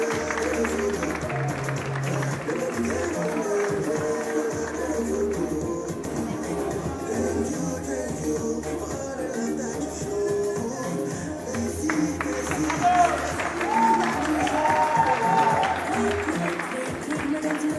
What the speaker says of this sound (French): Des applaudissements pour Mel Création.